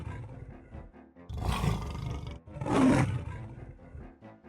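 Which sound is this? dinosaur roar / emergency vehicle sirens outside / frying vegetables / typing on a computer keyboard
dinosaur roar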